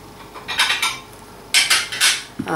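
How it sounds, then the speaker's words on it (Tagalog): A spatula strikes and scrapes a bowl in several short, bright bursts, close by, while egg whites are folded into cake batter for a strawberry and cream cake; a pause falls between the groups of strokes. "i-fold in na natin yung egg white dito sa ating butter"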